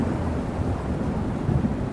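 Thunder rumbles from a nearby lightning strike during a fast-approaching storm, a dense low, continuous roar lasting throughout with a slight swell near the end, with no voices.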